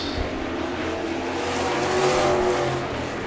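Super trucks race on a dirt track at a Manitoba speedway, their engines roaring loudly and continuously as they drive past during a heat race.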